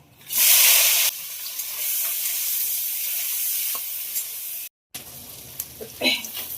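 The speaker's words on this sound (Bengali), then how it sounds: "তেল গরম হয়ে গেছে, ভাজার জন্য চিংড়ি মাছটা দিয়ে দেবো" Prawns dropped into hot oil in a kadai: a loud, bright sizzle bursts up at once, then settles into a steady frying hiss, with a short dropout and some clinks and crackles as the pieces are moved.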